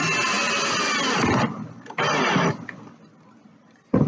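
Power drill driving screws into the wooden leg of a storage bench, two loud sustained whirring bursts separated by a short pause, then a brief restart at the end, close up with no talking.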